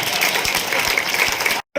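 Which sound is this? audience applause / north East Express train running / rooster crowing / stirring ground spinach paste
audience applause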